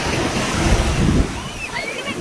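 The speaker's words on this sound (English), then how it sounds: "the waves are too big on this side" Big ocean waves breaking at a beach at sunset, a loud rushing surge that swells and then recedes into a softer wash, with wind noise on the microphone.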